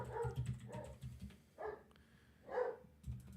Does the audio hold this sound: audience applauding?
no